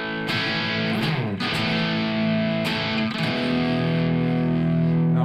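Distorted Les Paul electric guitar played through a Bugera 1960 Infinium valve amp, loud chords ringing out with sustained, gritty overdrive and a few fresh strums across the phrase, alone with no talk.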